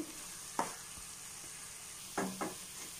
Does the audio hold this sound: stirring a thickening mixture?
yes